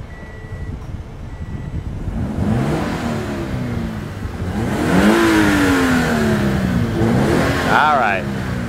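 A 2013 Scion FR-S sports car engine starts and revs up in several rising, roaring pulls, loud and close by the exhaust, with people talking around it.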